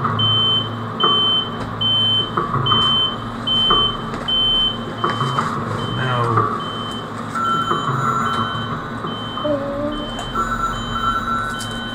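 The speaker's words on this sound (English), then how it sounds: "that's a new fire alarm" Inside the video game Lucius 3, a fire alarm gives a steady run of evenly spaced electronic beeps, loud over a busy background rumble, continuing throughout.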